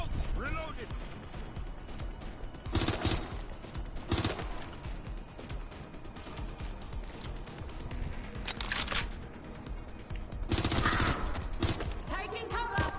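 Gunfire in the Watch Dogs Legion video game: several loud bursts of rapid shots break out amid background game noise, with voices speaking in between.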